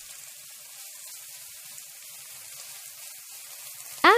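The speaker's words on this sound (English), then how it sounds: "Fry the meat foam first." Minced pork frying in oil in a hot pan for Cantonese winter melon, a steady soft sizzle with no talk, ending in a brief louder scrape or clatter.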